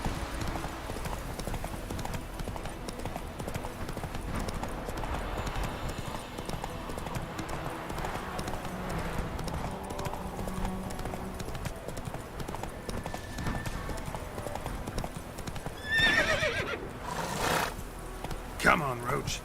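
Roach the horse's hooves clip-clop steadily in The Witcher 3, a continuous trotting rhythm layered with game ambience and music, with a few louder bursts near the end.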